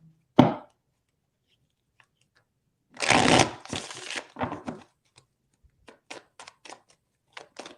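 Tarot cards are shuffled by hand for a reading, first as a single crisp snap and then as a dense riffle a few seconds later. Scattered light clicks and taps of cards being handled follow in a quiet room.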